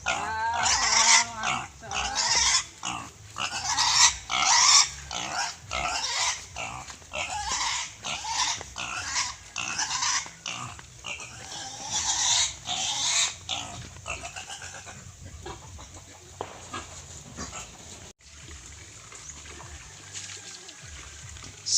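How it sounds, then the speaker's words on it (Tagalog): A loose pig grunts and oinks over and over on a rural Philippine farm after getting out of its pen, with steady squeals and snorts filling the yard and fading somewhat near the end. "So yan yung baboy is nakawala sa kanyang kural."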